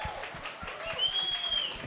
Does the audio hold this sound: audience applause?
yes